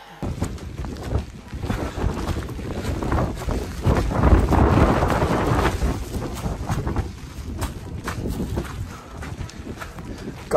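Strong gusty wind on Ben Nevis, the highest mountain in the UK, buffeting the microphone in heavy rumbling blasts that swell and ease, with rain conditions and occasional faint footsteps beneath.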